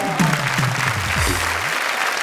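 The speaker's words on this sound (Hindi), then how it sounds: "यहाँ तालियां हैं" Audience applause at a Hindi comedy show, a dense wash of clapping that fills the whole stretch at steady loudness while a voice speaks over it at the start.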